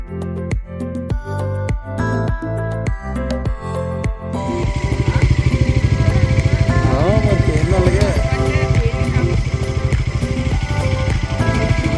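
A Bajaj Pulsar NS400Z motorcycle on a highway: the engine first throbs in rhythmic pulses, then settles into a loud, continuous drone mixed with rushing wind.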